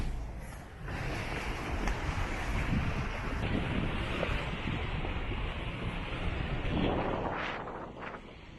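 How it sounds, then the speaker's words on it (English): Gusty wind buffets the microphone outdoors by a lake at Kewaunee Lighthouse, a steady low rumbling roar with swells and a couple of stronger gusts near the end, and no talking. "It's a little windy out today."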